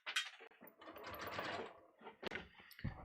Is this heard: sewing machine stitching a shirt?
yes